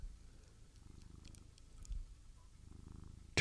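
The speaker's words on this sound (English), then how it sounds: "Can you guys hear that purr?" Cat purring softly in a quiet room, a faint low rumbling pulse with steady breath-paced cycles and a brief louder rustle near the end.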